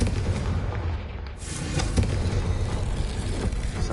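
A blasting spell from a Harry Potter-style video game erupts in a loud, booming explosion with a rumbling, gunfire-like burst that carries on for several seconds, with no voices over it.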